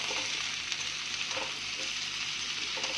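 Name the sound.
frying potatoes and drumsticks in oil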